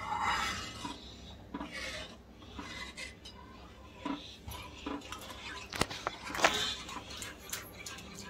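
Methi besan pithla stirred steadily in a pot, giving a soft, continuous scraping and rasping of a spoon against the metal with a few sharper clinks scattered throughout, close and moderately quiet.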